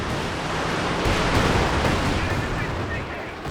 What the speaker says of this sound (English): So much artillery though, these land mattresses getting to work